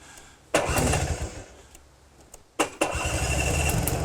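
A classic Vespa two-stroke scooter with electric start cranks and fires briefly, dies away, then catches on a second try and settles into a steady running buzz, close by and alone.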